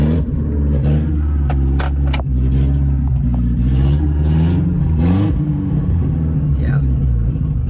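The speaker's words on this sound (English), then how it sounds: "I'm about to start it up. This thing is loud for now." A loud Chevrolet Chevette engine runs with a rough, throaty drone and uneven revs, heard up close while a voice talks over it.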